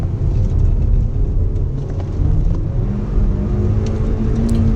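A Mazda MX5 races up the Wiscombe Park hillclimb, its engine droning loud and close from a car-mounted point of view with a deep, steady rumble and a slight rise in pitch, no talking.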